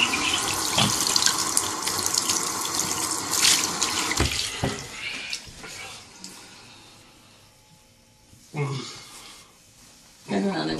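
Water runs from a sink tap during a morning wash routine, a splashing hiss that starts loud and busy, thins out midway, then surges again in short bursts, with a person talking intermittently over it.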